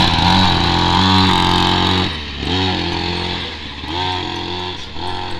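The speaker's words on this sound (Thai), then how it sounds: "เปิดสตาร์ทเลยนะทุกคนเดี๋ยวลองให้ขับดูนะ" A homemade go-kart engine runs loudly and close, with a steady buzzing idle that shifts and rises as the kart pulls away and drives on a concrete surface.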